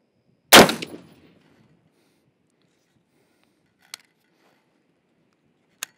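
A single rifle shot fired at a target while the rifle is being boresighted on a range: one loud, sharp blast that decays quickly into a faint echo, followed by silence and two small clicks.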